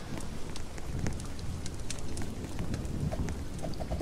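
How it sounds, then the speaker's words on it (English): Steady rain in the camping video game Camping 3, a continuous soft hiss with scattered drop ticks, even and unbroken throughout. "It's just raining a little bit."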